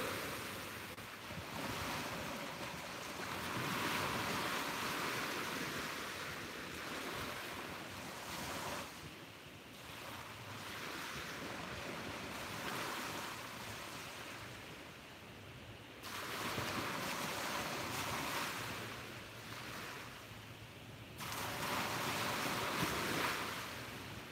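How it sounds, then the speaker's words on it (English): Ocean waves roll in and wash out in slow surges, a broad continuous roar with wind buffeting the microphone. "listen to a few more waves"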